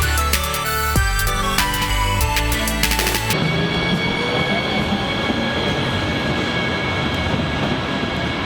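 A PATH commuter train runs loud and close, a dense steady roar of wheels and rumble with squealing tones, after a burst of rhythmic clattering at the start.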